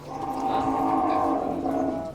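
A long, steady lowing call from a water buffalo at a livestock market, sustained and fairly close, with no other sounds around it.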